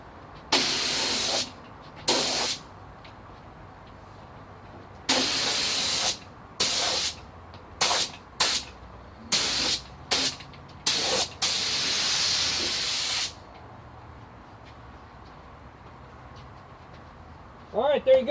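A spray gun lays epoxy primer on a Sprinter van during collision repair, with loud, close hissing bursts of varying length broken by pauses, then a short stretch of quiet and a voice at the end.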